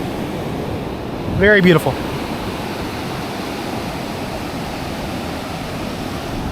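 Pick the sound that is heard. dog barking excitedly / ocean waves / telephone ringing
ocean waves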